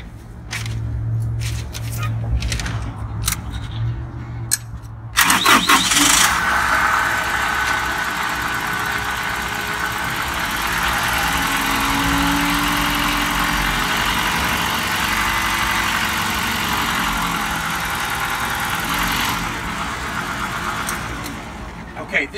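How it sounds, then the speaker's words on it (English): A 2013 Isuzu NQR reefer truck's engine cranks and fires after a few seconds of clatter, then settles into a steady, loud diesel idle with a constant low rumble throughout. "We're gonna start it up so you can hear it run."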